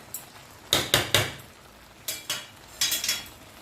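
Metal spoon scraping and knocking inside a kadhai while stirring carrot halwa, three clusters of sharp clinks separated by pauses, close and fairly loud, with no talk.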